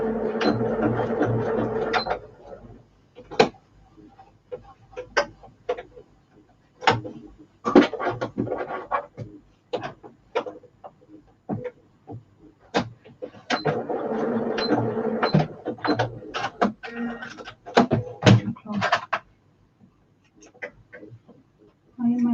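Domestic sewing machine stitching a quilt block in bursts, with two sustained whirring runs separated by scattered clicks and knocks of handling, loud and close.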